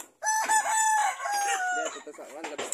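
A rooster crows loudly and close by, a long drawn-out call, with clucking hens and other birds around it.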